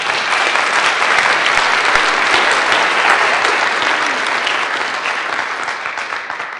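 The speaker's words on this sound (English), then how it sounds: "Give him a big round of applause." Loud, sustained applause from an audience at a 1 Million Cups startup pitch gathering in Kansas City, a dense steady wash of many hands clapping that tapers slightly toward the end, with no talk over it.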